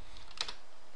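Soft, quiet keystrokes on a computer keyboard as a short web address is typed into a browser's address bar, a brief cluster of taps with a slightly louder pair in the middle.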